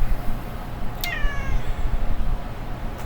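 A pet cat named Miss Kitty lets out a single clear meow with a falling pitch, close by and loud, over a faint low background hum.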